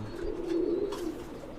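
Soft, low cooing from a Chinese pigeon, a steady murmuring coo held over a second or so, close by with faint background noise and no talk.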